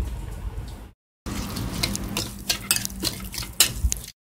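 Lentil salad with chopped green pepper and onion being stirred in a bowl, a run of soft wet scraping and clinking utensil strokes, close and fairly quiet, with a short silent gap near the start and no talk.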